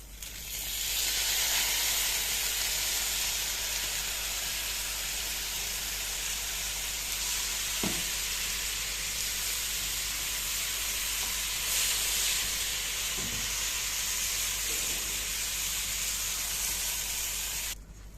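Rice tipped into vermicelli frying in a pot for koshari, a broad steady hiss and sizzle that stays close and even throughout, with a few soft knocks of a utensil.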